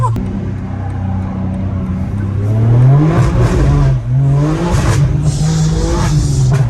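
A rear-wheel-drive BMW M4 accelerates hard with wheelspin, its engine note climbing through the revs and shifting gear with a throaty roar and faint tire whir; voices talk over it inside the car.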